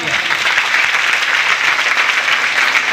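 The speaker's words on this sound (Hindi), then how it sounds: "जोरदार तालियां" Loud, dense applause from an audience at a DXN marketing meeting, a steady wash of many hands clapping throughout, close and sustained with no voices over it.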